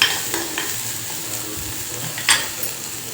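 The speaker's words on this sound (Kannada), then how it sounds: "ಇದು ಶುಂಠಿ ಇಷ್ಟು ಹಾಕ್ಕೊಂಡು ಇದು ಬಟರ್ನೊಳಗೆ ಚೆಂದಾಗಿ ಫ್ರೈ ಮಾಡಿ" Ginger frying in butter in a pan while being stirred, giving a steady close sizzle with scraping stir strokes and a louder clatter near the end, with no voices.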